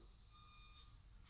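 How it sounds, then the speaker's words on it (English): Series of electronic confirmation beeps from a quadcopter's speed controllers during calibration on an ARFun 95 Pro brushless drone, a steady high tone pulsing for about half a second, fairly faint with no talk. "that final confirmation beep is just to tell you that the speed controllers are all now calibrated"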